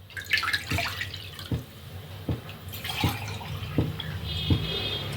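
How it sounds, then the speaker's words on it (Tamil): Water splashes into a cooking pot from a small vessel in a home kitchen, a faint trickling pour broken by a series of soft, evenly spaced drips and plops. "இந்த 2 சொம்பு தண்ணி ஊற்றிக்கோங்க."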